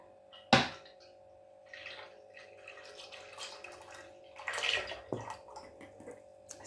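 Fresh cow's milk poured into a 5-liter pot for homemade yoghurt, a soft trickling and splashing pour with a sharp clink near the start and another knock later, quiet and close, with no talking.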